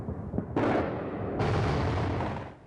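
Cruise missiles strike Baghdad at night during the Shock and Awe bombardment: heavy explosive booms roll and overlap into a sustained loud roar that slowly fades, with no voices.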